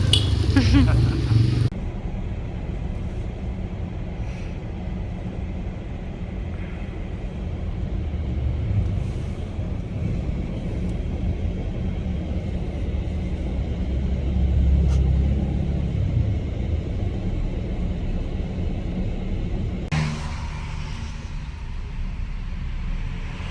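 A motorcycle rides out in traffic, its engine making a steady low rumble throughout, with a louder burst of wind and engine noise at the start and again near the end.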